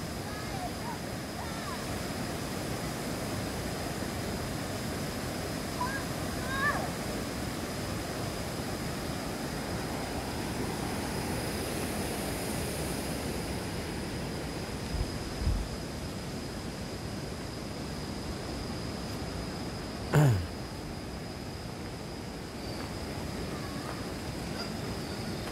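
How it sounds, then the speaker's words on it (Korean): A river swollen after Typhoon Lingling rushes steadily in a broad, even roar, constant and fairly loud with no breaks, heard from a bridge with a faint thump partway through. "강물이 아주 세차게 흐르고 있습니다."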